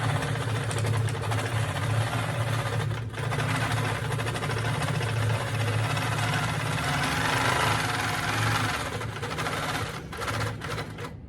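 A Handi Quilter longarm quilting machine stitches a half-inch seam on a tote bag, giving a continuous fast mechanical hum and rattle that runs steadily at close range, with brief dips in between.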